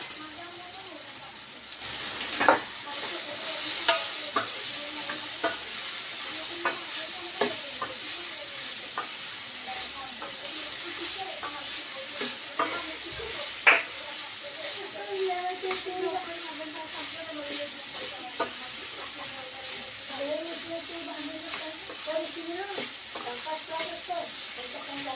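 Pumpkin and drumstick pieces sauté in a pan for sambar, a soft continuous sizzle with occasional stirring scrapes and clinks, while someone talks over the cooking.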